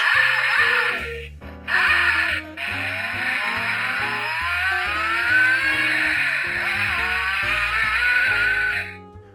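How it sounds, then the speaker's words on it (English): An Audi RS 5 DTM toy car engine sound sputters to life, then revs in a loud, steady high whine that runs close and continuous before cutting off abruptly. "if you press down on the hood, it starts up and revs."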